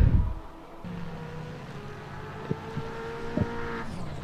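A Porsche race car in a sim racing game runs off the track, with steady engine drone and tonal whine throughout and a few sharp knocks near the end.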